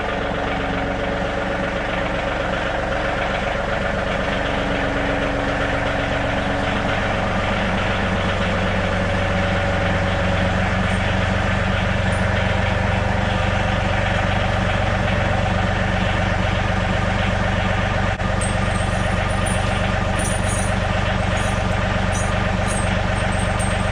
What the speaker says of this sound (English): And now I'm going to back the tractor over it.